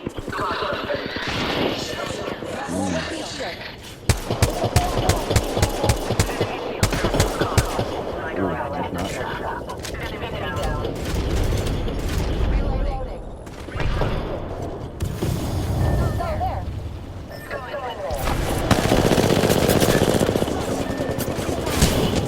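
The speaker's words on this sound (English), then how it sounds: "Taking fire." In the video game Apex Legends, rapid bursts of automatic gunfire crackle in volleys of sharp repeated shots, some close and loud and others further off, mixed with game sounds, and people talk throughout.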